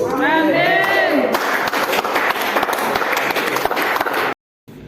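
Church congregation applauding and cheering a woman preacher, a dense sustained wash of clapping and crowd noise that follows a few shouted voices, then cuts off abruptly near the end.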